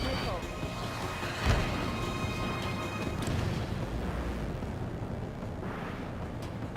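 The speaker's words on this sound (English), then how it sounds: "Bomber hit by a missile." A missile strikes a bomber in the aerial combat game Ace Combat 7, giving a muffled boom that rolls under steady jet engine roar, with radio chatter faintly present.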